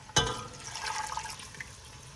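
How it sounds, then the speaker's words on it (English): Two cups of water are poured into a pot of beef for a spicy nihari curry. A short splash is followed by a gentle, fading liquid gurgle, close by and quiet. "I will add 2 cups of water in there"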